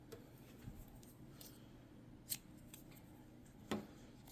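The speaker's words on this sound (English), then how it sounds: "You can go ahead and cut the black yarn." Scissors snip through black yarn, a crochet project's working strand being cut. Two short, crisp snips stand out apart from each other over a quiet room background.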